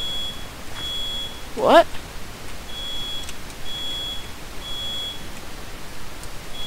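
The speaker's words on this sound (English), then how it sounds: "My smoke alarm is going off!" A household smoke alarm chirps in short, high beeps repeating every second or so, with a startled voice calling out briefly over it.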